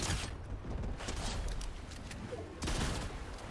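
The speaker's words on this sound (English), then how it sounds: "I just got shot at." Gunfire in a Fortnite Season 3 duo match, a faint burst of rapid shots and crackling fire heard through game ambience, with a louder report near the end.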